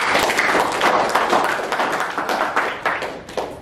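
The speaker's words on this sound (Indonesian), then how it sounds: "oke, tepuk tangan semua" A group in a correctional counseling session clapping together, a loud, dense burst of hand claps close by that holds steady and tapers slightly toward the end.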